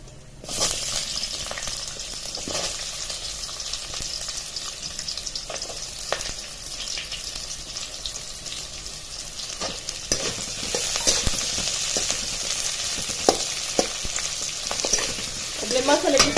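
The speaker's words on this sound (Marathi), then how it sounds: "आलं लसूण थोडंसं लालसर झालं की लगेच त्यामध्ये कांदा टाकून घेणार आहोत" Onion frying with ginger and garlic in hot oil, a constant crackling sizzle with occasional stirring scrapes, growing slightly louder toward the end, no voices.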